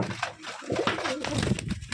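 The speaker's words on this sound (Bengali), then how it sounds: "এখানে এগুলো হাই কোয়ালিটির কবুতর এগুলো" High-quality pigeons at a loft give brief low coos among rustling and shuffling noise, close and moderately loud over a short stretch.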